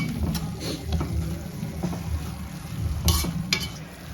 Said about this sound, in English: Our tomatoes and onions are cooking here slowly.